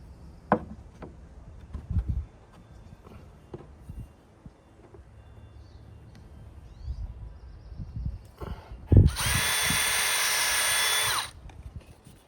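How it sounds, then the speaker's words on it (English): Power drill boring into a thin wooden lath strip, a single loud whirring burst of about two seconds following scattered knocks and handling clatter. "Mark it for drilling."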